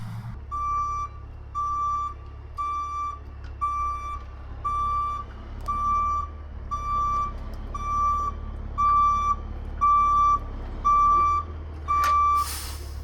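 Dump truck backing up at a culvert dig site, its reversing alarm beeping steadily about a dozen times in even rhythm over a low idling diesel rumble.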